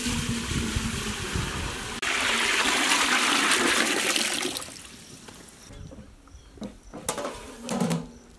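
Water poured and rushing for preparing rice for American fried rice in a kitchen, a loud gushing stream that tapers into trickles, splashes and drips.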